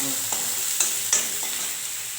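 Onions and green chillies fry steadily in a pan on a low, even sizzle, with a few soft stirring scrapes breaking through at intervals.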